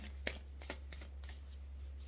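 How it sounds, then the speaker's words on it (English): Tarot cards are shuffled by hand in a couple of soft, quick riffling bursts, close and quiet over a steady low hum, with no talking. "There's 3 cards here, and all I need is one, so I'm going to shuffle again."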